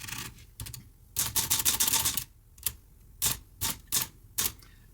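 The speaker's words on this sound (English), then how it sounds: "I take the ribbon out and then all I want to do is see if the keys actually move." An Olivetti Lettera 22 typewriter with its ribbon removed, keys striking in a fast burst of clacks and then several separate sharp strikes spaced apart, close and clear with no talk.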